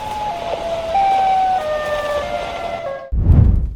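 Eerie wailing siren of the Siren Head creature rings out in layered, stepped tones that hold and shift in pitch, loud and near, then cut off into a low rumbling burst.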